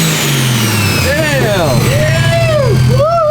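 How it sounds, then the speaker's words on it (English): A swapped Toyota 1JZ VVT-i engine revs hard in repeated blips, each rise and fall ending in the whoosh of a blow-off valve, loud and close, with voices shouting over it. "the blow-off valve sounds sick"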